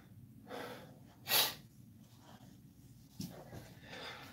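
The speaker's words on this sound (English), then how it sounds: "Yes, I am breathing a little bit" A man breathes heavily while working out, with several audible breaths and a sharp huffing exhale against a quiet background.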